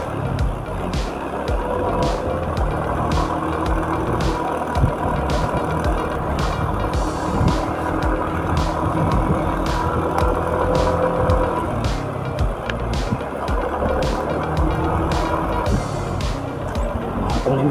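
A car climbs the steep road up to Wat Phra That Doi Kham in Chiang Mai, its engine and tyre noise droning steadily and close, with regular light clicks and bumps from inside the cabin.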